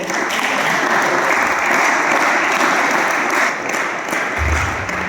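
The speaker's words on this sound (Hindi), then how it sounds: "दोनों की ताली बजाओ" Students at a Bharat Scouts and Guides camp in Chhattisgarh clap loudly in sustained group applause for two of their peers, tapering slightly near the end.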